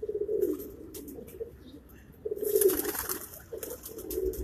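Pigeons on a Karachi rooftop coo in low, throaty bursts, several rolling calls close by with quiet gaps between them and faint background rustling.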